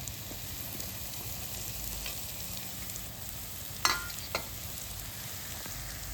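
River mussels, cleaned and washed, sautéing in a pan with a steady low sizzle, and two brief sharp clinks of a spatula against the pan near the middle; no one speaks.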